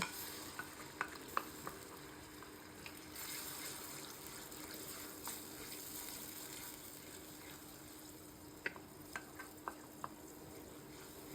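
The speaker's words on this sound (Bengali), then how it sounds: "পেঁয়াজটা একটু ভাজাতে নিয়ে" Ground onion paste fries in hot oil for a fish and gourd-greens steamed dish, giving a steady soft sizzle with scattered spoon scrapes and clicks against the pan, close and continuous with no talk.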